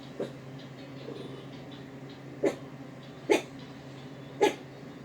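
A dog gives a few short, sharp barks or huffs at a passing dog, spaced irregularly over a low background hum, fairly close by.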